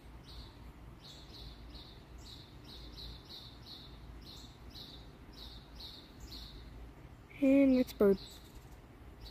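Small birds chirp outdoors where hummingbirds are feeding, a steady run of short, high, repeated tweets at moderate distance, with a brief burst of speech near the end.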